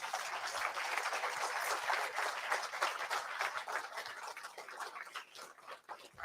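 A conference audience at the React Norway meetup in June 2023 gives a sustained round of applause, dense and steady, gradually thinning toward the end.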